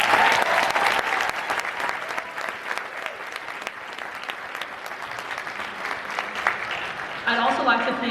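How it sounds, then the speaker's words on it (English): Sustained audience applause for a children's and youth choir at a community music school concert, steady dense clapping throughout with crowd noise, a brief musical flourish at the end. "these students deserve a round of applause for their efforts"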